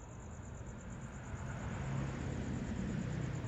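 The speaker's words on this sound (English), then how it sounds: "you'll hear this motorcycle or something drive by, some car, what you just heard" A car or motorcycle passes by outdoors at night, a low rumbling engine that swells gradually and grows louder toward the end, heard alone without talk.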